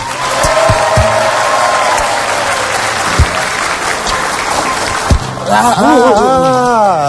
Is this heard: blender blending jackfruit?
no